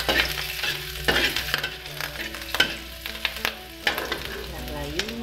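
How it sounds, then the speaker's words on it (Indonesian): Onions sizzle as they are stir-fried in a pan, with a steady frying hiss broken by repeated clanks and scrapes of a spatula against the pan, close and with no talking. "Masukkan bawangnya, kita oseng dulu."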